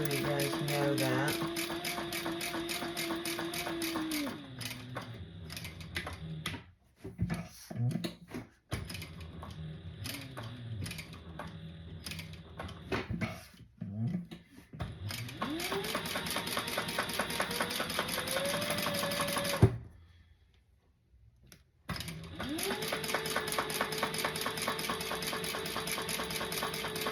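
A sewing machine runs in sustained bursts, stitching the long open side of fabric first, its steady mechanical whir stopping and restarting several times with brief pauses, close and fairly loud throughout.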